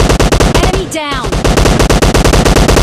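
Rapid automatic gunfire in PUBG Mobile Lite from a Thompson submachine gun, a loud, steady stream of close shots that breaks off briefly midway, then resumes. A voice speaks faintly under the shots.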